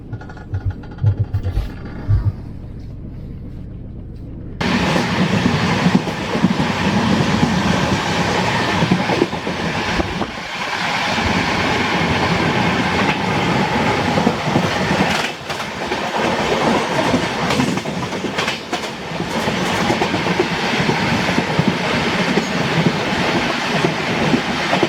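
Mumbai Duronto Express train running on rails, a steady loud rolling rumble with rhythmic clickety-clack from the wheels, starting after a few seconds of quieter cabin hum and continuing close and continuous.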